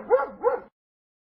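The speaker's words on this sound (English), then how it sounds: "Dog." A dog gives two quick, close barks in a row, clear and alone, then stops.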